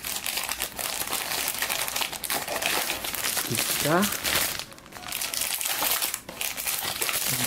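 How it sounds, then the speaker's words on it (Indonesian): Plastic bags crinkling around Bandai Gundam BB Knight Superior Dragon model kit runners, continuous close rustling and crumpling throughout while a person speaks. "Tiap runner ini dilapisi plastik ya."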